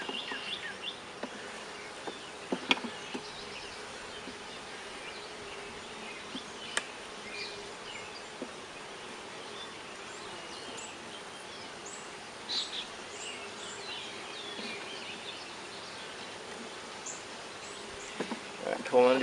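Honey bees from a swarm hum steadily during a hive inspection, a low continuous buzz close by, with scattered clicks and taps from frames being handled.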